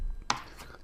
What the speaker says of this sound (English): you chop your onion up